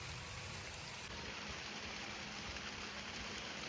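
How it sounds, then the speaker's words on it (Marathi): Steady evening rain falls outside a window, a dense, even hiss of drops lasting throughout with no voices. "पाऊस चालू झालेला आहे परत आता."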